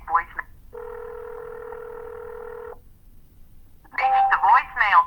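A telephone gives a single steady tone lasting about two seconds as a call forwards to automatic voicemail, set between short bursts of a recorded voice.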